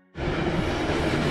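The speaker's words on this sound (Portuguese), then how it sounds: "o trem tinha duas composições puxando e vem mais uma empurrando" A loaded freight train climbing into the mountains with two locomotive sets pulling and another pushing, its loud rumble and rolling wheel noise surging in abruptly and holding steady close by.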